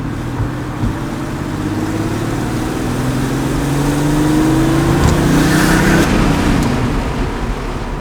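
A heavily modified Porsche 964 Turbo 3.6, about 550 horsepower, revs up with a loud, rising air-cooled flat-six roar that swells through the middle and then eases off, with no voices over it.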